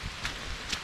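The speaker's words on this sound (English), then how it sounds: "It's like pouring down rain," Heavy rain pouring down on a trail, a steady dense hiss with a couple of brief louder patters, close and continuous.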